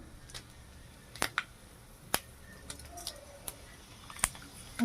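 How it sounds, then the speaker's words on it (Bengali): Dried red chillies are snapped apart by hand, giving several sharp, brittle cracks spread irregularly over a few seconds. The cracks are close and crisp against a quiet background. "পাঁচটা শুকনো মরিচ আমি একটু ভেঙে দেবো"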